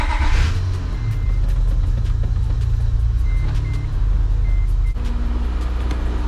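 An Acura TL Type S engine idles steadily right after a transmission rebuild, a close, continuous low rumble with a brief rev at the start and faint intermittent beeps over it.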